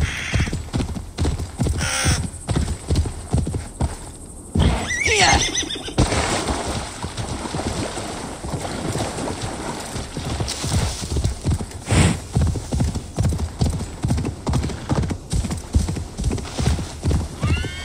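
Galloping horse hooves clip-clop in a fast, steady rhythm during riding in Assassin's Creed Valhalla, with sharp neighs and whinnies rising above them and occasional bird caws in the background.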